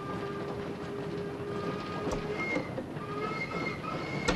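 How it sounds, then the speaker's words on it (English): A train rolls slowly along the track, steady rumble with wheel squeals and metallic clanks, fairly distant and continuous, with no talk. "Why is the train going so slow?"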